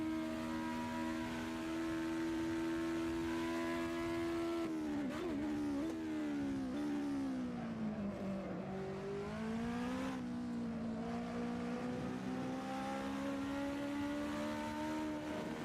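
Racing car engines in the video game Assetto Corsa, during a league race: a loud continuous engine drone with harmonics that dip and rise as the cars shift and rev. The engine note carries on steadily throughout, with no talk.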